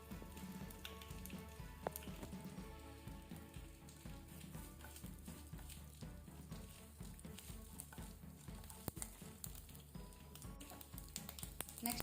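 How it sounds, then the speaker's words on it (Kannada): Mustard seeds sputter in hot coconut oil in a pan, tempering for a banana stem palya: faint, continuous crackling pops over a soft tonal background. "ಬಿಸಿಯಾದ ನಂತರ ಒಗ್ಗರಣೆಗೆ ಸಾಸಿವೆ ಚಟಪಟ ಅನ್ನುವ ತನಕ ಫ್ರೈ ಆಗಲಿ"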